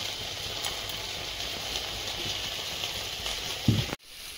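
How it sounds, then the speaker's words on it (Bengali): Curry gravy for doi ilish (hilsa in yogurt sauce) bubbling in a pot, a soft, steady simmering hiss close by, with a brief clunk just before it stops. "ঝোলটা ফুটে গেছে, এবার মাছটা দিয়ে দেব।"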